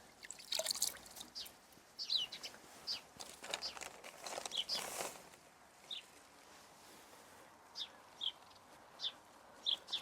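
Water dripping while potted seedlings are watered, a string of separate faint drips and small splashes falling at irregular intervals in a quiet, close setting.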